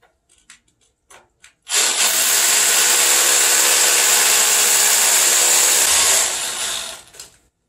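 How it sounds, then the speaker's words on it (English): A drill bores into a concrete pad outdoors, a loud, steady grinding roar that starts abruptly after a few faint knocks, holds for about four seconds and then winds down. "we're going to drill into this concrete pad here behind me."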